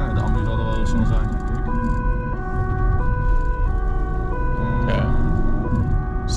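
An ambulance siren wails in a steady two-tone pattern during a Dutch police ride-along, loud and continuous over engine and road noise in the vehicle, with some faint talk.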